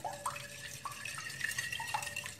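Six raw eggs are beaten in a bowl for a sponge cake batter, producing a quick, rhythmic wet slapping and light clinking that carries on steadily, close by and fairly soft.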